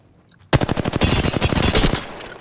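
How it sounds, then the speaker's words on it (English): A rapid automatic burst of gunfire in Apex Legends starts abruptly after a short quiet and rattles on loud and close for about a second and a half of evenly spaced shots. "Listen up, I'm getting shot at."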